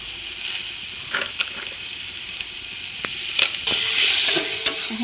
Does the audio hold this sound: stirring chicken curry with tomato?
yes